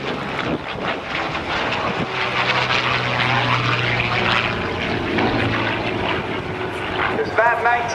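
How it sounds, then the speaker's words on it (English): Rebuilt Yak-9 warbird with an Allison V12 liquid-cooled engine flies past at an airshow, its propeller drone swelling and shifting in pitch as it passes, with wind buffeting and a voice talking over it. "It is a V12 liquid-cooled engine. Very different sound."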